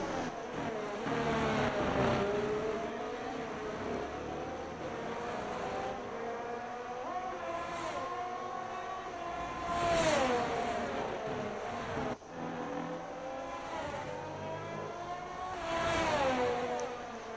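Red Bull Formula 1 race cars roaring past one after another, engines rising and falling in pitch as each passes, loud and continuous, with an engine whine sustained throughout.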